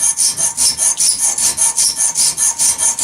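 A hand file rasps back and forth across material being cut into a triangular notch, about fifteen even strokes in a steady rhythm, close and loud with no talking.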